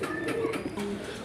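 A pair of white fantail pigeons in a market collection cooing, a few soft low murmuring coos close by, short and gentle.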